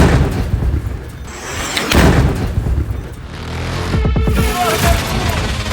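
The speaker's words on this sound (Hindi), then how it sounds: "जापोरिजिया में ब्लास्ट।" Heavy booms of a drone-strike explosion in Zaporizhzhia, Ukraine rumble through the air, with a couple of deep blasts and a lingering roar, loud but somewhat distant.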